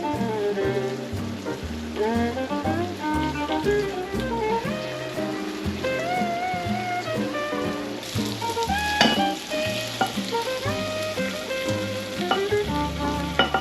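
Apples sizzle in a pan while being stirred, a continuous crackling fry with scraping movement that runs under prominent background music with no speech.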